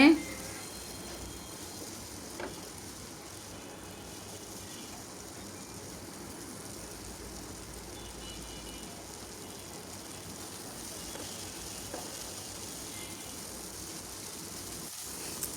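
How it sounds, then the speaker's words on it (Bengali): Okra with egg and potato fries in a pan with a soft, steady sizzle that stays faint and even throughout, with no talking. "এখন নাড়াচাড়া করে ভেজে নিচ্ছি একটু ভালোভাবে"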